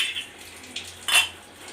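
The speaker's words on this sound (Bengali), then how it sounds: "এইবার আমি কোটোর ঢাকনাটা লাগিয়ে দিলাম।" A tin container's lid is pressed shut with one brief metallic clink, preceded by a softer tap, over a quiet kitchen background.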